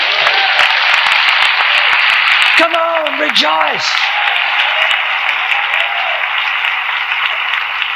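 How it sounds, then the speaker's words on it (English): A church congregation claps continuously, a loud, steady wash of applause that fills the room while a preacher's voice calls out briefly over it. "Give the Lord a hand clap."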